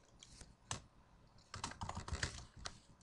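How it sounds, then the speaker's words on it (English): Keys clatter on a computer keyboard as a folder name is typed, a quiet burst of irregular taps with a brief pause before a denser run of keystrokes. "press Enter on the keyboard to accept the changes"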